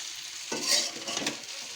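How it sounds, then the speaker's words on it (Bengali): Water lily stems fry with shrimp in a pan, a close sizzle that jumps as the food is stirred, then keeps hissing steadily with no talking. "সেই শাপলা এই যে চিংড়ি মাছ দিয়ে ভাজি করছি"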